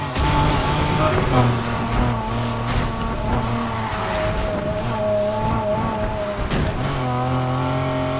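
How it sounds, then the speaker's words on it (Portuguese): A car drifts in Need for Speed Heat, its engine droning loudly with shifting revs and tire squeal throughout, a brief break near the end before the engine picks up again. "Tô adorando o drift do jogo."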